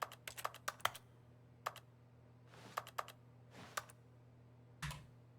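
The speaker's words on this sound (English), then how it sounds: "Press U on your keyboard." Clicky computer keyboard typing during The Stanley Parable video game, irregular bursts of sharp keystrokes with short pauses between them, close and fairly quiet, no talking.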